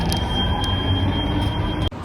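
A Copenhagen metro train rumbles steadily along with a faint high whine, then a sudden clunk near the end as it shifts or brakes.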